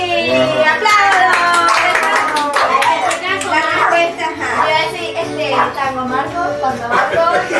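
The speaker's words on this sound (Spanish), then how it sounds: "¡Aplausos!" Classroom children clap together loudly and continuously while voices and chatter carry on over the clapping, near and busy throughout.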